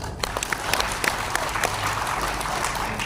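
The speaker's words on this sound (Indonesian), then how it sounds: "Tepuk tangan untuk kita." Teachers and school principals at a provincial education gathering in East Nusa Tenggara applaud together, a continuous crackle of many hands with sharper individual claps standing out, held at an even level throughout.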